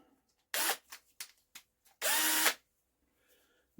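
A power drill spins over an old Villiers engine in short bursts: a brief whir, a few faint clicks and ratchety ticks, then a longer, louder whirring run before it stops.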